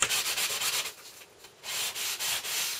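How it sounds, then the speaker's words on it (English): Power sander run over an alcohol-inked steampunk folio cover, giving a steady abrasive rubbing hiss in repeated pulses, close and fairly loud, with a short quieter gap midway. "So you run the sander over it."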